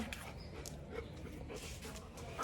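Soft, rapid panting and faint whimpers come from a nearby dog in a noisy outdoor setting, steady and low for a couple of seconds.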